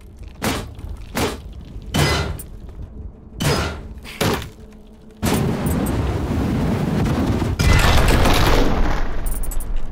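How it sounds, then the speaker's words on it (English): Explosions tear down walls in the video game Dysmantle: five sharp, booming blasts in quick succession, then two long, loud crumbling roars of collapsing debris that fill the rest of the time. "Yeah, let's explode everything."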